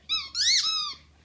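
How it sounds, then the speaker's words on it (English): A squeaky chicken dog toy gives two close squeaks, a short one followed by a longer, rising-and-falling squeal, loud and alone at a puppy's playtime. "Oh, look, there's a squeaking chicken."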